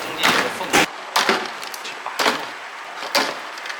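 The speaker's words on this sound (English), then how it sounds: "Cut the zip ties." Zip ties being snipped while setting up a K605 printer, four sharp, close clicks of the cutter spaced about a second apart against quiet room tone.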